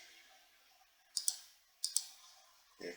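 Mouse buttons click while working in Sweet Home 3D architectural design software: two quick pairs of sharp, close clicks, followed by a softer click near the end, over a faint background hiss.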